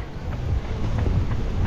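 Steady, loud wind buffets the microphone while someone runs outdoors in São Paulo, making a continuous low rumble with no speech.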